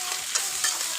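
Green chili pickle being stirred and mixed in a pan, a brief bright scraping and sizzling texture with soft spoon strokes, close and fairly loud.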